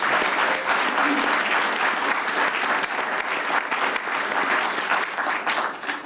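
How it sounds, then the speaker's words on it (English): Audience at a public candidate forum applauding the candidates' families, loud steady clapping from a full room, sustained throughout and tapering slightly at the end. "give our families, my husband and his wife, a round of applause"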